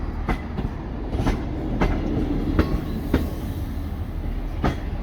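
A train rolls slowly into railway sidings at Shrewsbury with rhythmic clickety-clack wheel beats spaced about every half second to second, steady and moderately close, with no talk.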